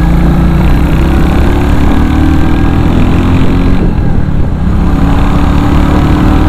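A 2021 Royal Enfield Classic 350 motorcycle's engine runs steadily and loudly while riding, a continuous close drone with no voices over it.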